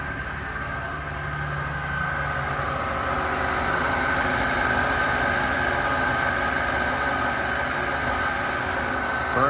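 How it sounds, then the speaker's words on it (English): The six-cylinder engine of a 1963 Rambler 440 convertible idles smoothly and steadily, a close, even rumble with no talking over it. "Let's give that engine a listen."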